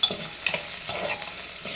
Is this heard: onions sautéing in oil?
yes